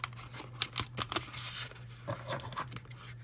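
Several quick snipping cuts from scissors, close and crisp, arriving in an uneven run with a low steady hum underneath.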